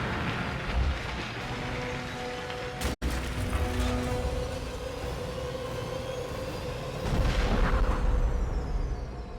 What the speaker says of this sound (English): literally one of those line gun rounds went through the Hive Lord and just kept traveling and hit a plant, just cracked it right in half